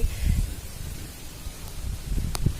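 Wind gusts on a rooftop rustle through trees in soft, breathy waves, with low buffeting rumbles against the microphone.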